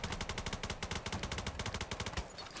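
Rapid automatic gunfire in the video game Ballistic sounds as one fast, steady burst of close, loud shots that keeps going almost the whole time, with a brief thinning near the end.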